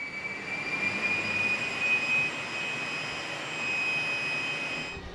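An aircraft jet engine runs during initial engine tests, a steady broad roar with a thin high whine held constant, moderately loud and unbroken for several seconds.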